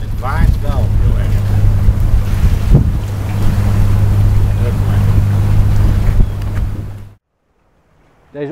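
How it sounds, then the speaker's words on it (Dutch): Heavy wind roaring and thumping on a Canon 550D microphone with audio gain control on, a constant low hum, loud and continuous, then cutting off abruptly into near silence before briefly returning. "Het waait wel heel erg."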